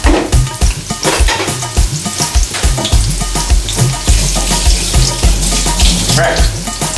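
Pork for a stew sizzles loudly in a pot, with repeated close stirring and scraping knocks from a spoon over the frying hiss.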